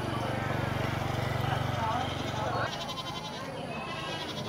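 Goat bleating at a rural market fair in Cao Sơn, a sustained nasal bleat up close, then crowd noise and talk carrying on around it.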